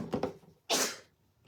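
A single short, sharp sneeze bursts out indoors during a craft session, right after a few quiet mumbled sounds, then the room falls quiet.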